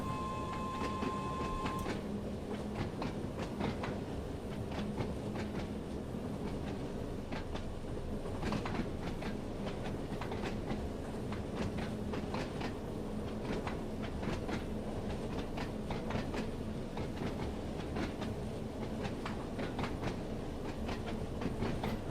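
Steady clickety-clack of a train climbing a hill along rails in Train Sim World 2's Isle of Wight route, with a constant mechanical rumble, rhythmic wheel clicks throughout and no voices.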